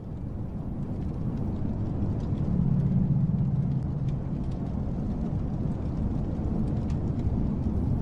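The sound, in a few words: heavy rain falling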